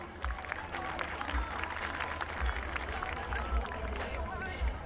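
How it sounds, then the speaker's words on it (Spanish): Applause from a conference audience at a panel event in Chile, continuous crowd clapping at moderate level with a low rumble and some background murmur beneath it. "Un aplauso, por favor."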